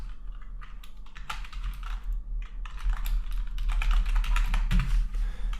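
Steady, close clicking of typing on a computer keyboard, a quick irregular patter of keystrokes with no talking.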